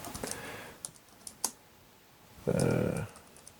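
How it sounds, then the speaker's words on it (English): Scattered soft taps on a HooToo HT-WK01 Bluetooth wireless backlit keyboard, a few isolated clicks spaced apart, then a short denser clatter of keys; quiet and close. "maybe you can hear the keyboard tap"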